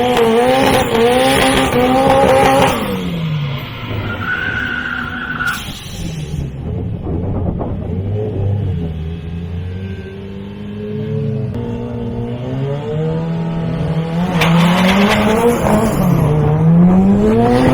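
Street racing cars at Barcadera Nights in Aruba roar past up close, engines revving hard with rising and falling pitch and tires squealing, one run fading out early and another climbing loudly toward the end.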